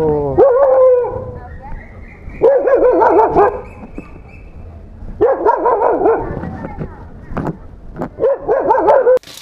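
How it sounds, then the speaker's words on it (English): Several angry dogs at a dead-end spot in Bangkok bark loudly and close, breaking into harmonic howls and yips in repeated bursts across the whole stretch, with brief pauses between volleys. "angry dogs."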